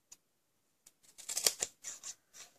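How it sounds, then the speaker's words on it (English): Scissors cut small notches into folded card stock for a handbag-shaped gift box, producing a quick cluster of crisp, close snips and clicks after a couple of isolated taps. "we're going to cut out some little notches for there"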